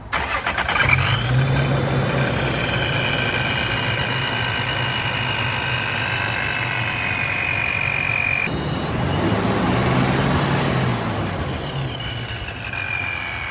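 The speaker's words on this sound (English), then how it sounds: "We're gonna do a cold start right here so you can hear it for yourself." A Toyota Tacoma pickup fitted with a Procharger supercharger cold-starts, cranking into a loud, steady idle with a rising whine and a brief revving swell near the end, no talking.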